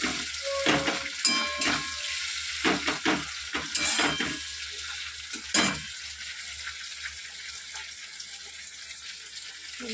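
Chopped tomatoes drop into a pan of fried onions, setting off a loud sizzle with several sharp bursts and stirring scrapes before settling into a steady frying hiss.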